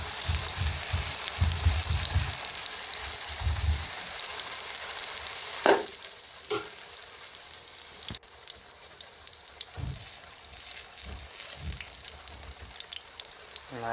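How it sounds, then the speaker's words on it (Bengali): Cabbage fritters frying in a little oil, a continuous close hiss and crackle of sizzling with a few brief scrapes and low knocks from handling partway through. "এগুলো অল্প তেলের মধ্যে ভাজলেই ভালো হয়।"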